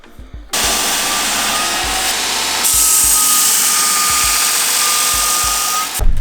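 A power tool grinds down a horseshoe during hoof fitting, a loud steady whine running for several seconds with a brief start and a rise near the end, no voices present.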